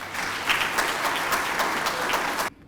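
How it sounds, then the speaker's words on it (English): Audience applause at a defence attaché conference closing function, honouring a brigadier general serving as chief director of foreign relations; steady dense clapping from a roomful of people, ending abruptly. "I therefore request you a round of applause to the Chief Director of Foreign Relations"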